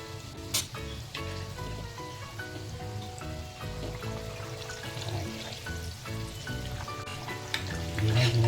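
Vada frying in a pan of hot oil, with a dense, continuous crackle and bubbling sizzle. Occasional louder pops and spoon clinks rise over it.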